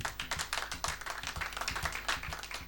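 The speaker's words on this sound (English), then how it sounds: "You can clap to them." Audience clapping at an anniversary celebration event, a fairly quiet, brisk patter of individual hand claps in irregular rhythm, close and clear, lasting a few seconds with no talk.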